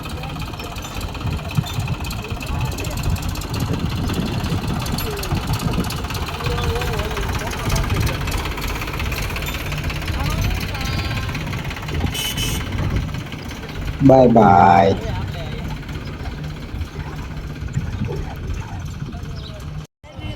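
A tractor engine idles with a steady, low, rumbling chug that runs throughout, while people talk and call out nearby and a louder burst of activity briefly rises over it partway through.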